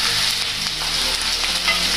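Chopped onions frying and being stirred in a pan for chicken pasta macaroni, with a loud, dense, continuous sizzle close up and no talking.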